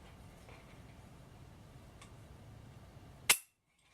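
A Franklin Armory BFS III binary trigger set to semi is pulled once against a weight scale, giving a single sharp, close click near the end after quiet room tone.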